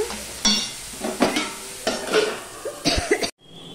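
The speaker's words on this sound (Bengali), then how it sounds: "দিয়ে দিলাম হলুদ, দিয়ে সম্পূর্ণটা মিশিয়ে নিচ্ছি" Bottle gourd being stirred with salt and turmeric in a pan, heard as a series of scraping, sizzling strokes at a loose rhythm, close and fairly loud, ending in sudden quiet.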